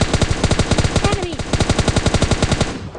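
M4 spray fire in the mobile battle-royale game PUBG Mobile Lite, a loud, continuous stream of rapid, evenly spaced automatic gunshots lasting the full three seconds.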